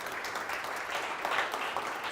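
Audience applause at a town hall gathering, a soft, fairly distant wash of clapping lasting a couple of seconds.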